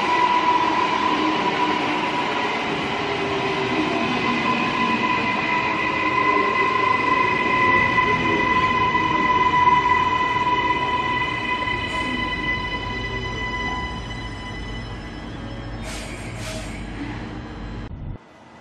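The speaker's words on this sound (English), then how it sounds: "Our train has arrived in Ipswich" A train pulls into a station in Ipswich, a long steady rumble with tonal whine and rail hum building and holding, then hissing brake release and clanking near the end before the sound cuts off.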